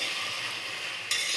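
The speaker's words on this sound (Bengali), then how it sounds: "পেঁয়াজটা ভাজছি চিকেনের জন্য।" Onion fries in a large pan for chicken, a steady close sizzle with a brief louder burst of hissing near the end.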